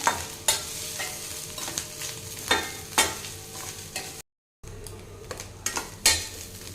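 Garlic cloves, dried red chillies and curry leaves sautéing in hot oil in a pan, stirred with a metal spoon; steady sizzle with repeated sharp scraping strokes, close and clear, with a brief silent gap.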